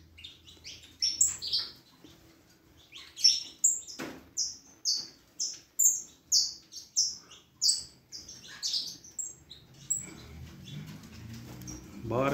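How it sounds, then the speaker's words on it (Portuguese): Small birds in an aviary give a series of short, bright chirping calls, about a dozen evenly spaced bursts over several seconds, with a faint low hum and occasional rustling underneath; no talking. "Fêmea dele tá corruxando chamando ele e ele vai."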